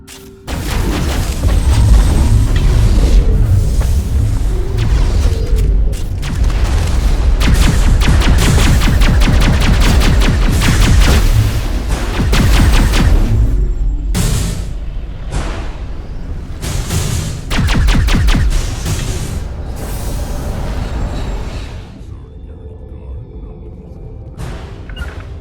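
Sustained gunfire and booming explosions from a Mass Effect firefight against Geth on Noveria, loud and dense for about twenty seconds, with rapid bursts and heavy thuds, easing slightly near the end.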